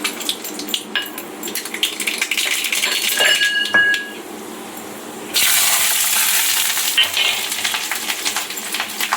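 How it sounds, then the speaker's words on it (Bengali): Mustard seeds sizzle and crackle in hot oil for phoran before radish greens are fried, a loud broadband hiss that jumps sharply midway as the seeds hit the oil, with scattered clinks of utensils. "এবারে তেলে দিয়ে দেব সর্ষেটা।"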